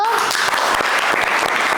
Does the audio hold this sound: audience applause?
yes